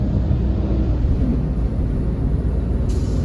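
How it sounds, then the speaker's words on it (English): An airplane touching down toward the airport at Montego Bay, Jamaica, gives a steady, loud broad rumble that holds evenly throughout, with no voices. "Look at the plane touching down"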